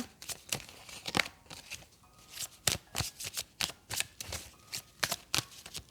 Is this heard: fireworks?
no